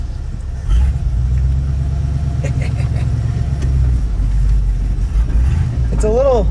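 A junkyard bullnose Ford, newly swapped from EFI to a carburetor, fires up and settles into a loud, close, steady low rumble that runs throughout.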